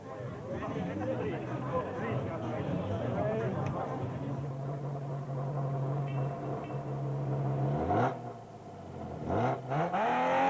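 A Nissan Navara SP rally truck revs hard and accelerates through its gears, rising and falling in pitch with a clear upshift near the end, heard beneath a narrator's voice.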